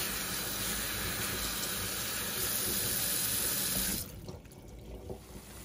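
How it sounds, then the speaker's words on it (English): Cauliflower rinsed in a colander under a running kitchen faucet, a loud steady gush of water that cuts off abruptly near the end, leaving quieter dripping and handling sounds. "give our good cauliflower a nice little rinse in our colander"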